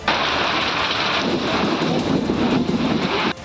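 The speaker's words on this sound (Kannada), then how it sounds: "ಗುಡುಗು ಸಹಿತ ಭಾರೀ ಮಳೆಯಾಗಿದ್ದು" Heavy rain pours steadily in Kalaghatagi, Dharwad district, Karnataka, during a thunderstorm, a dense close hiss with low rumbling thunder building underneath through the middle and end, no voices.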